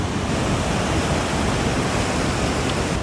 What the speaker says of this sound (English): Look how hard that water hit.